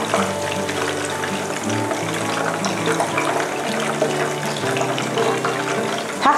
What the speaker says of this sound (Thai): ใช้กระชอนนะคะตักปลาขึ้นมาแล้วก็เสด็จน้ำมันให้มากที่สุดเท่าที่จะทำได้ด้วยนะคะ